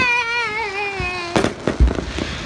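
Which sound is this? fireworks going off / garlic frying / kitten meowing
fireworks going off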